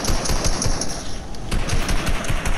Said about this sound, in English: I hear somebody right shooting somebody